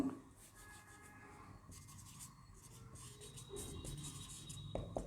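Faint chalk or marker strokes scratch and rub across a classroom board in short, uneven bursts, quiet against a low room hum, with no voices.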